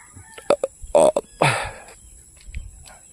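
A chicken clucks a few short, sharp notes close by in rural Libon, Albay, Philippines, followed by a longer squawk, then quieter sounds in the background.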